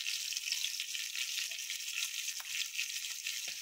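Rava-coated bangda mackerel sizzling steadily in a pan on low heat, a continuous close crackle and hiss with no talking.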